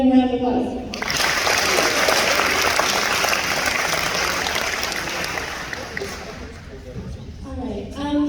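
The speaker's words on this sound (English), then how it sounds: "Let's give them a round of applause." An audience at a junior high school awards ceremony breaks into applause, a broad wash of clapping lasting about six seconds and easing off slightly at the end, with a speaker's voice briefly before and after it.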